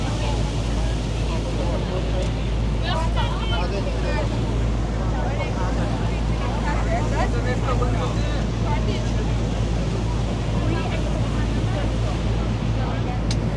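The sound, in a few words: tourist boat on the river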